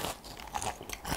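A single close, brief crunch of teeth biting into crispy crumble-coated fried chicken topped with an almond-flour batter, a sharp crackle followed by a moment of chewing.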